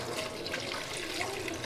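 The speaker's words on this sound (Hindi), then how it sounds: "हमने तो डायरेक्ट पानी में धो लिया सबको।" Vegetables and noodles being washed under running water, a steady broad rushing and splashing stream with no pauses, heard up close with no voices.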